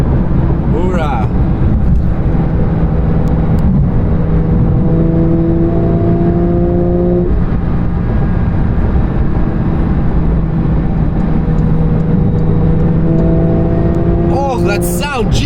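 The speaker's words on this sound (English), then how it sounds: "That sound, jeez, absolutely phenomenal. Active exhaust is the best thing ever." Engine of a 2022 Porsche 911 (992) GT3 with active exhaust, loud and continuous as it accelerates on the road, with rising tones and a gear change heard from inside the car, with voices talking over it.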